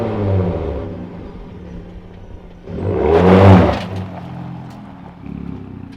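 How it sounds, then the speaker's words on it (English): A 2022 Ford Raptor Gen 3 with a custom build and its exhaust set to Baja mode gives a steady low rumble, swells into one throaty rev midway, then settles back to idle. "Let's check out the Gen 3 Raptor Baja exhaust mode."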